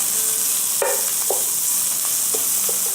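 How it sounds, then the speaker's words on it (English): Garlic and ground pork fry in hot oil, a steady bright sizzle running throughout, with several short scraping knocks of a utensil stirring and breaking up the meat. "When the oil is hot, put in the garlic. We'll cook it until it's fragrant, then add the ground pork."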